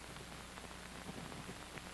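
Rain falls in a steady, faint, diffuse patter and hiss, continuous throughout with no voices.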